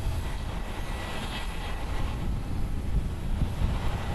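Aircraft at Haneda International Airport, Tokyo, during busy departures and pushbacks give a steady, distant jet roar with broadband rumble and some wind noise, continuous throughout without speech.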